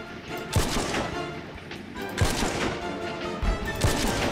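Gunfire in the Plastic Warfare video game, with repeated shots and short bursts in an uneven rhythm, three louder cracks standing out over steady background battle noise and no talk.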